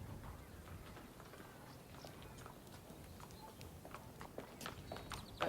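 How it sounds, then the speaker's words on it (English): Quiet, uneven clip-clop of horse hooves walking on a hard surface, soft and somewhat distant, with a few sharper knocks near the end. "This horse is looking great again, Mr. Brandt."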